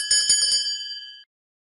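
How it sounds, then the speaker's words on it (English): A bright bell from a Curious George game rings several quick strikes, then a clear ringing tone sustains and cuts off abruptly, alone and fairly close. "A bell sounds like this."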